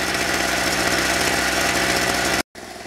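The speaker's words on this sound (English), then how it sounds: "This is a no load sound or no load speed. It tends to speed up and slow down just a little bit." Harbor Freight Storm Cat 60338 portable generator running at no load, a steady buzzing engine drone with slight speed wavering from its governor, fairly loud and constant, cutting out briefly near the end.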